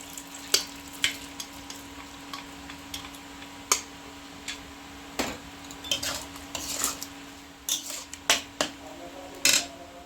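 Boiled chana dal goes into a pan of spinach frying with spices, followed by a steady sizzle and repeated metal clinks and taps of a spoon against the pot, close up and without talking.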